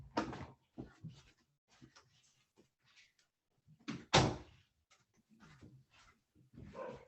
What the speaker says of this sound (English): Okay, I'm going to close this door.